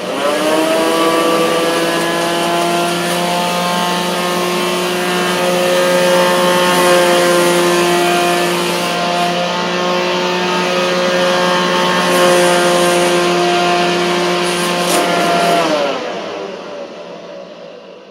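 Kirby vacuum cleaner, a modified DS80 with straight suction, running with a loud steady high-pitched motor whine, then winding down over the last few seconds to near silence.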